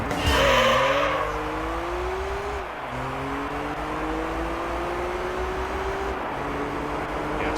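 Simulated race car engine in Gran Turismo 3 revs hard and over-revs on each gear shift, a loud, continuous whine that climbs, drops at the shift, then climbs again, with faint tire noise.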